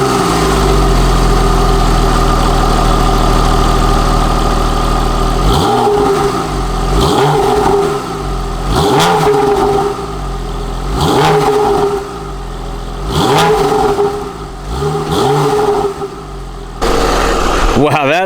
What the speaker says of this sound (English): This will be a warm start of the Porsche 911,